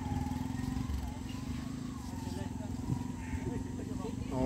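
On a boat crossing the flooded Satluj river, a motorcycle engine runs with a steady low throbbing drone while people talk over it close by.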